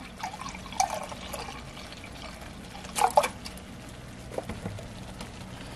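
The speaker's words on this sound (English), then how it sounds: "we are back up to a boil, so we can go ahead and add in the 1 cup of milk." Milk poured into a boiling pot while making green bean casserole from scratch, a soft continuous liquid trickle with a few splashy drips, close and fairly quiet, without talk.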